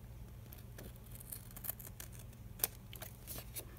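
Scissors trimming folded paper for a lap book craft, a few soft snips and crisp paper rustles over a low steady hum, with one brighter cut standing out near the end.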